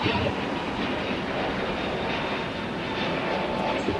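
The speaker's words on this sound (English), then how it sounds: "here on the south side, we have the departure of Spirit Airlines" A Spirit Airlines Airbus A321neo jet departing at LAX, a broad, loud roar of engines and rushing air, sustained and even without voices.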